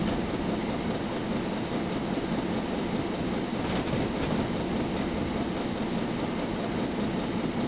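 A steam locomotive in Train Simulator 2019 labours uphill, a steady broadband rumble and rattle of running gear that stays constant and close throughout.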